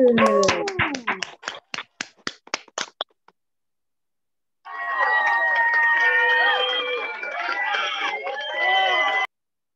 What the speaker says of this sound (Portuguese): Eu nunca vi umas palmas tão lentas na minha vida.